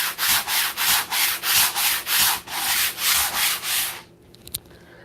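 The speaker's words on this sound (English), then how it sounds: "I kind of took off the first layer of grit off of that acrylic" Rhythmic sanding strokes rub across an acrylic-primed surface, about a dozen loud, close back-and-forth passes in steady tempo, then the scraping stops and a few faint taps follow in near silence.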